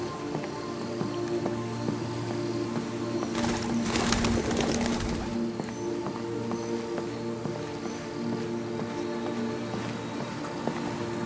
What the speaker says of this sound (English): I want to scare the birds.